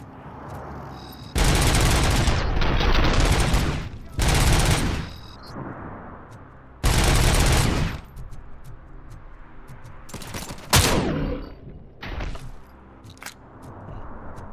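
Shotgun blasts in RoboCop: Rogue City come as several loud, separate booming bursts with ringing tails, then quieter gaps, followed by a few sharper, shorter shots.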